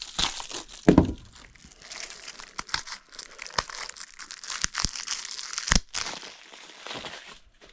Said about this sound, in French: On se déballe un peu de tape.